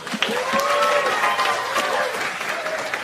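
Stand-up comedy audience of about 1,400 claps briefly in response to a question, a thin scattered applause with some vocal reaction rising under a continuous crowd bed, steady and moderately loud.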